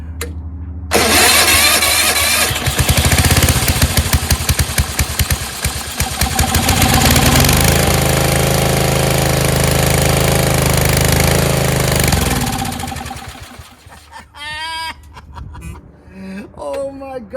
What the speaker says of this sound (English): let's see if it cranks a little bit faster now, at least enough so we can get this baby started